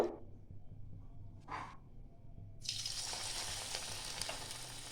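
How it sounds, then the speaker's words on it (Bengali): Cauliflower pakoras drop into hot white oil, with a couple of faint early noises before a sudden loud bubbling sizzle that holds steady, close by and with no voices. "আমি এবার ফুলকপিগুলো একে একে ভেজে নেব"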